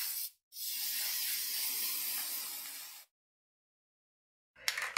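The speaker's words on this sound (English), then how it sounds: "go ahead and start spraying." Aerosol spray paint can hissing steadily for about two and a half seconds while filling in a stencil for a custom doormat, then stopping, with a brief second burst starting at the very end.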